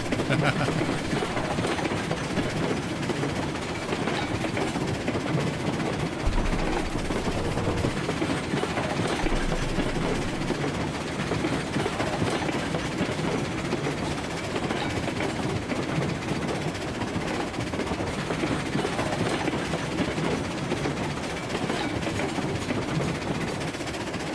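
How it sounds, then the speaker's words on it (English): A steam locomotive in the video game Railroads Online rolls steadily along the rails, a continuous dense rumble and rattle of wheels that stays loud and even throughout. "Such a good locomotive, though."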